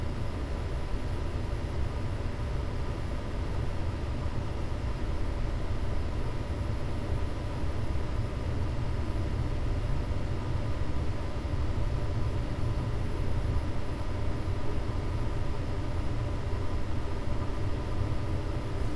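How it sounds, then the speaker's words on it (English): An airliner rolling down the runway for takeoff in a flight simulator game, a steady, even engine and rolling roar that holds at a constant level from start to finish. "So now we're just gonna roll down the runway."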